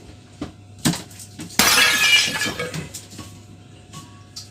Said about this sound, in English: Daddy's just broken your stool.